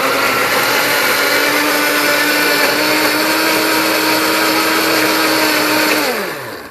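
An electric blender whirs loud and close, pureeing lemon, yogurt, egg white and avocado into a face mask. The motor holds a steady high-pitched drone for about six seconds, then winds down as it is switched off.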